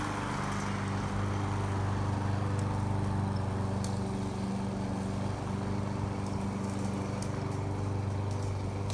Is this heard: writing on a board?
no